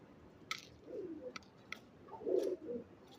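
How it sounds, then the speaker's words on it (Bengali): A pet pigeon cooing nearby, two low, soft coo phrases spaced apart over a few seconds with faint clicks and quiet background. "এটা আমার প্রিয় কবুতর।"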